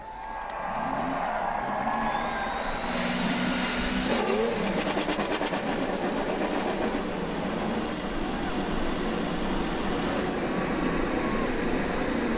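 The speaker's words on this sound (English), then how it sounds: "start your engines" IndyCar race car engines fire up on the grid at the Honda Indy Toronto, a broad, steady roar of many engines layered with crowd and track noise that holds throughout, with some voices faintly underneath.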